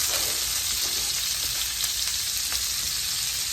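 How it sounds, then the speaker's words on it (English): Onions and peppers sizzle steadily in a hot pan as the base for a pork chop gravy, a continuous bright frying hiss close by with no talk over it. "Let's go on and put our onions and our pepper in."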